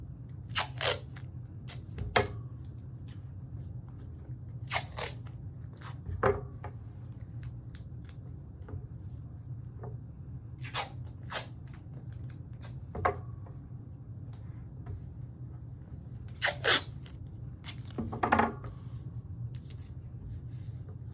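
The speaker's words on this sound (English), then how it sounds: "Next, you come down to the opposite side and tape again, starting in the middle." Adhesive tape is pulled and torn in short crackling bursts, several scattered rips spaced seconds apart over a low steady hum as it is laid onto fusible quilt batting, close and fairly quiet.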